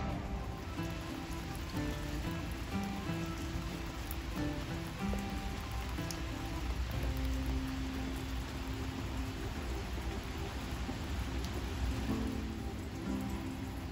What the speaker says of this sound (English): Anyways, it's starting to rain.